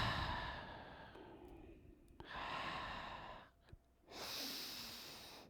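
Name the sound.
deep breathing during yoga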